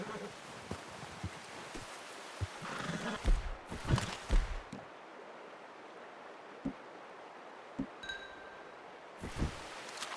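A horse in Red Dead Redemption 2 whinnies and snorts amid rustling and a few hoof thuds, then scattered soft clops and a faint metallic clink against quiet background.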